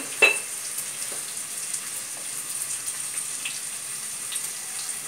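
Onions frying golden brown in a hot wok make a steady soft sizzle, with a brief clatter of stirring near the start and light crackles throughout.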